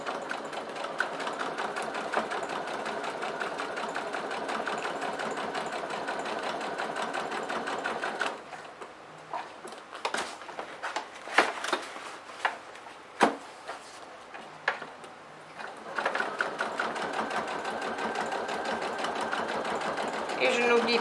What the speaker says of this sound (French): Pour cette couture, j'ai utilisé un pied téflon parce que j'ai mon tissu enduit